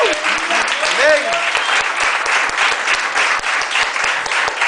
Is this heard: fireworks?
no